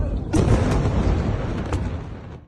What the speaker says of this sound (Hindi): इस्राएल के बीचों बीच ईरान का डायरेक्ट अटैक, सीधा हमला, और किस तरह का धमाका होता है